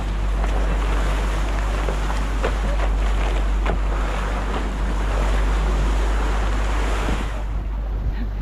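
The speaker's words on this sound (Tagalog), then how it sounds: "Alon ang karagatan." Ocean waves slosh and wash continuously against a boat out in the West Philippine Sea, with a steady low rumble, constant wind buffeting the microphone and splashing textures throughout.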